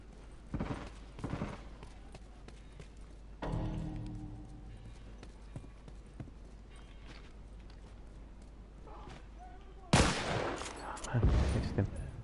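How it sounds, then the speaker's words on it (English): Burst-rifle fire in The Last of Us video game comes as short, sharp volleys, two early bursts, then a quiet stretch before louder rattling bursts near the end. "He's been hit by a couple of rounds with a burst rifle."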